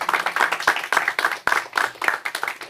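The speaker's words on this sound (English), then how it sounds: "that deserves a clap" A small group at a first-day-of-school event claps for educators, with distinct individual hand claps in an uneven rhythm, close and moderately loud, with a few sharp claps standing out.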